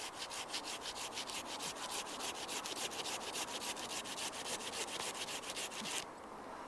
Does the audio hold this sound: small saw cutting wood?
yes